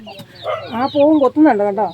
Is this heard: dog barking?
no